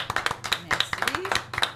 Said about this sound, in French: Merci de, s'il vous plaît, l'applaudir bien fort.